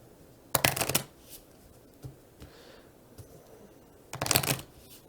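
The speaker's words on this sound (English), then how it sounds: "I shuffle my deck." A deck of cards for the Clank! board game being shuffled by hand, two brisk riffling bursts separated by a few soft taps and handling noises, close and quiet with no talk.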